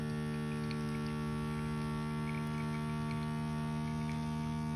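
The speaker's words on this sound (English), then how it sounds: "you can probably hear the pump start to do its job" A small pump runs steadily while black mass from a recycled vape battery is filtered, giving a constant, even hum with strong tonal lines and no change in level, with no talking.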